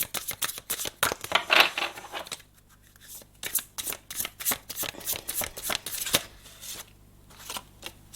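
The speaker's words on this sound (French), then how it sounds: "Je vais tirer 3 cartes en fait et ça va représenter un seul message." Tarot cards are shuffled by hand for a reading: quick repeated riffles and soft slaps of the deck, close and crisp, with short pauses between bursts.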